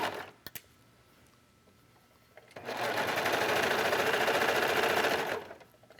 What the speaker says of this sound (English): just slide that under and start to stitch